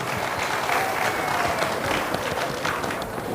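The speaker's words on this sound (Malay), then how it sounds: "Berikan tepukan yang gemuruh untuk diri masing-masing." Steady, dense applause fills a hall at a rural women's empowerment seminar in Sabah, a large audience clapping continuously at moderate volume without breaks.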